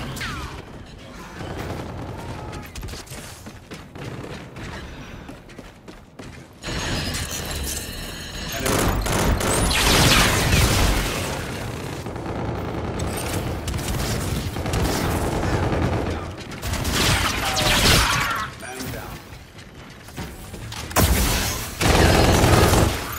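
Gunfire in Call of Duty: Infinite Warfare, repeated bursts of shots, mechanical clatter and booms that come and go in loud stretches over a continuous battle din, with occasional voices.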